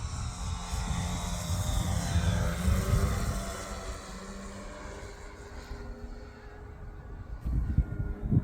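A 67-inch Skywing ARS-300 RC airplane in flight, its faint propeller and engine buzz rising and falling as it passes at a distance, with a louder surge near the end.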